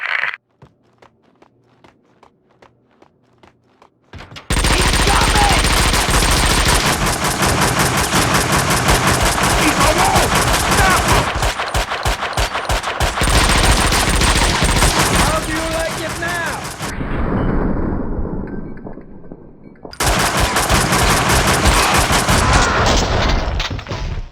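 Loud gunfire from a shootout in the PC game Max Payne 2: dense automatic bursts and rapid shots in long stretches after a quiet opening, with a short lull before the firing resumes.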